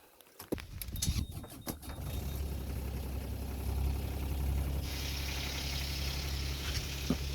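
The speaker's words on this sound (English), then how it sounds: "let's see if the engine will turn on now" Boat engine starting up and settling into a steady low idle after a rope was cleared from its propeller, on a wet late-July trip near Tahsis; a few clunks precede the continuous rumble, which stays fairly loud throughout.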